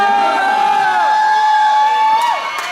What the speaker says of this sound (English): I love it when y'all cheering for your favorite dancer out there